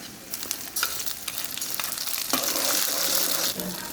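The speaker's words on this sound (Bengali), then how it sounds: "ব্লেন্ডার করা পেঁয়াজটা দিয়ে দিব" Blended onion paste frying in a hot pan for a pabda fish curry, a loud, dense sizzle swelling midway with stirring clatter, close up and continuous throughout with no talking.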